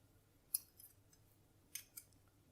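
Scissors cracking open a sea urchin shell, a few faint sharp snips and crunches spaced apart, close but quiet in an otherwise still room.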